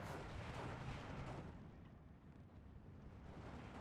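Heavy artillery explosions in the strategy war game Steel Division 2 roll out as a dense, distant-sounding boom that swells and then fades into a wash of rumble.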